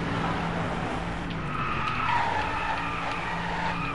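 Tyres skidding and squealing on a car in the Driveclub racing game, a steady sustained screech over loud engine roar throughout, with no talking.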